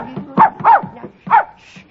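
A puppy gives three short, high barks up close in quick succession, followed by a faint whimpering yip.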